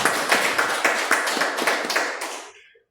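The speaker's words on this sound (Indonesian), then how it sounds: "Terima kasih. Tepuk tangan." Seminar audience claps after a presentation, a short burst of distinct, fairly close handclaps that quickly thins out and stops.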